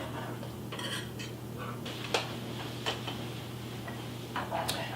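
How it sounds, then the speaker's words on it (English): A whisk clinks against a bowl while mixing milk and cocoa, giving quiet, irregular metallic taps and scrapes over a low steady hum. "And we'll whisk this together."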